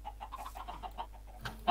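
Minecraft chicken clucking in a quick series of soft, faint clucks, close by and with no talk over them.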